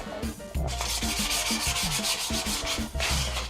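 Close, rhythmic back-and-forth strokes of sandpaper rubbing a wooden sledge between polyurethane coats, each pass a rasping scrape in a steady repeating pattern.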